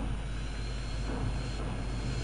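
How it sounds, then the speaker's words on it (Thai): A propeller plane in flight in GTA San Andreas, its engine droning in a loud, steady, continuous tone with no talk over it. "ทีนี้ก็เหลือเครื่องบินลำหนึ่งที่บินอยู่นะ"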